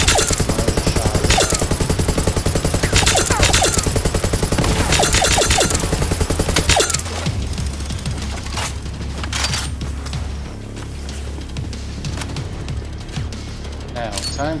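A legendary gun firing in Borderlands 3, with loud rapid automatic bursts for several seconds, then sparser, quieter shots and game effects, close and dense, with a voice talking over parts of it.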